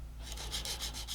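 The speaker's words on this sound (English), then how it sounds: "now sort of just lightly sanding away at the plastic" Light, rhythmic rasping strokes of sandpaper rubbing on a plastic Harrier GR.3 scale model, about six quick passes, close and soft.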